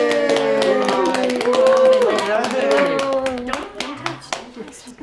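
Audience clapping and cheering for the judges at a gingerbread house decorating challenge, a busy patter of hands with harmonic voices overhead, steady and fairly loud, thinning out toward the end.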